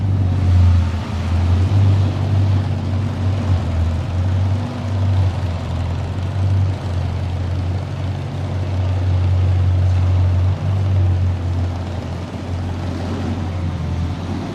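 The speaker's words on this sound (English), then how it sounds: "listen up to the sound of the Bugatti DIVO W16, 1500 horsepower" A Bugatti Divo with a 1500-horsepower W16 engine rumbles with a deep, heavy drone, holding a steady loud roar with slight swells, heard alone without talk.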